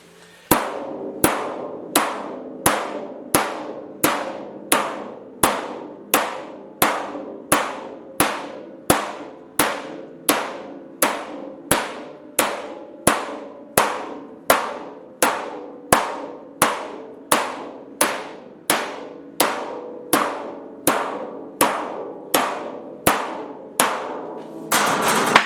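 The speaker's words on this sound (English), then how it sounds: "this is an easy way to knock some shape into a panel" A homemade hammer fashioned from a gas bottle pounds a metal panel to knock shape into it, steady loud ringing blows repeating about once a second for the whole stretch with no talking.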